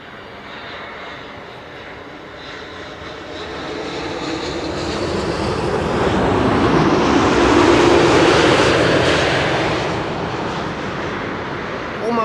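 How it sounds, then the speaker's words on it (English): Air Canada Boeing 787-8 Dreamliner arriving at Amsterdam Schiphol on a flight from Montreal, a broad jet engine roar that swells as it passes nearby, peaks, then slowly fades away. "Air Canada Flight 900 arriving from Montreal. That's a 7878 Dreamliner."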